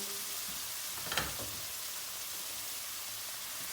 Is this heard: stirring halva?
yes